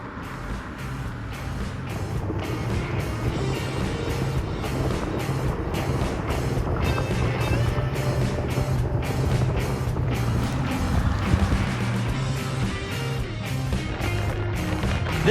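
A Mercedes-Benz 500 SEC Widebody, an 1980s coupe, cruises along with a steady engine drone and road rumble under constant tire noise, close and continuous, with faint rhythmic ticking throughout.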